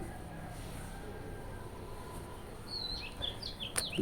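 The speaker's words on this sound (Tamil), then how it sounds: "இந்த குருவி சவுண்ட் கூட பார்த்துக்கிட்டே இருங்க ஃப்ரெண்ட்ஸ்," A sparrow chirps in a quick burst of bright, high calls near the end, over a steady low rumble of background noise.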